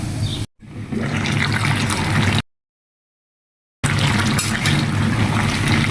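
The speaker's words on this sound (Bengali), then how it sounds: "লাউ কষিয়ে হালকা জল দিয়ে দিব" Water is poured into a pan of fried bottle gourd for a fish-head curry, making a steady splashing flow that is interrupted by a short silent break before it continues.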